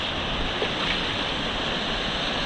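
A small waterfall in the Kesme Boğazı canyon gives a steady, close rush of falling water, broadband and unbroken, with no voices over it.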